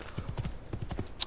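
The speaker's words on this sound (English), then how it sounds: "There's a horse there." Rapid hoofbeats of a horse galloping in Assassin's Creed 2, a quick rhythmic clip-clop of about a dozen close thuds, followed by a short high tone at the end.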